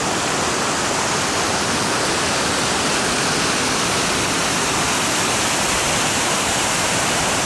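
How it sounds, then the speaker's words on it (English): Huge waterfall and a very big river rushing in freezing mist, a loud, steady, broadband roar that fills the whole clip without pause, close and continuous with no voices. "Very big river here."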